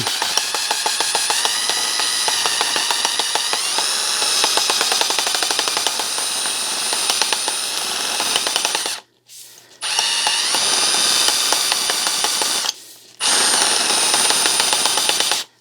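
A power tool spins at high speed while polishing a Snap-on punch held in a metric socket, giving a loud, steady whine that stops briefly twice before starting again, with no talking.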